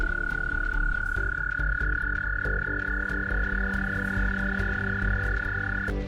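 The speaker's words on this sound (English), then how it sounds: "Each croak of a frog sends gentle ripples across the still surface of the lake." Frog croaking by a still lake, a steady series of loud, close croaks over a continuous high trilling chorus, heard alone without voices.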